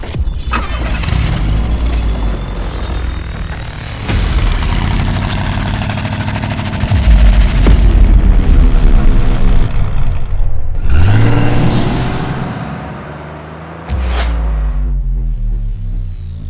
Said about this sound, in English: we're gonna be driving a Lamborghini Gallardo Superleggera